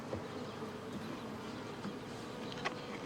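A dense, continuous drone of many bees buzzing together, steady and fairly soft, with no voices.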